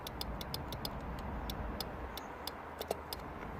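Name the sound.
Opel Astra H relay clicking when grounded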